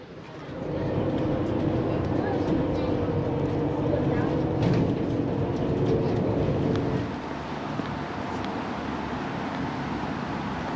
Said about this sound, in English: Oh, we're onto a tram next,